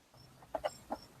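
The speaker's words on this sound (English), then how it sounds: "We're outside here, and you may hear the birds." A few faint, brief bird chirps outdoors, three quick calls close together against quiet background.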